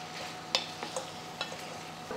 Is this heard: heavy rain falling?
no